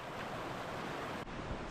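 Snowmelt streams run down a mountain trail in spring on Castle Peak, giving a steady, fairly close rush of flowing water with some wind-like hiss and no speech.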